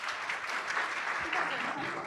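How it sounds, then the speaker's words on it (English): Moderately soft, steady applause from a small audience at a parent leadership meeting, a continuous patter of hands with faint voices mixed in. "Can you guys give them a round of applause?"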